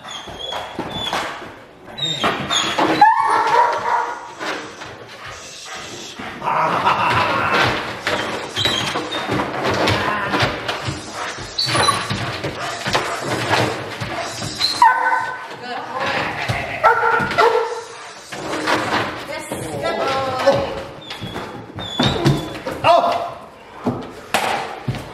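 Young green dog from Holland during bite grip training, barking and yipping in loud bursts with whimpers and thuds, while a handler talks nearby throughout.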